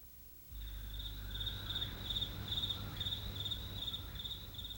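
Crickets chirp steadily in a rapid, pulsing trill at night, close and clear over a low hum, with no voices.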